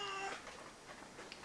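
A hungry pet cat meows in a house, a single drawn-out harmonic meow at the start followed by softer, fainter vocal sounds, close to the listener with no talking.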